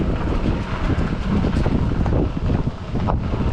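Wind gusts over open water beside a towpath during a bike ride in light rain, a loud, constant buffeting roar on the microphone with no talking.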